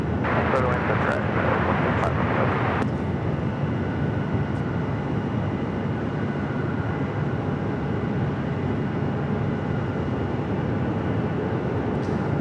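Delta Airbus A330-300 jet landing at Phoenix Sky Harbor airport, a steady distant roar of jet engines holding through the whole stretch, with brief clicks and a radio-like burst early on before the drone settles.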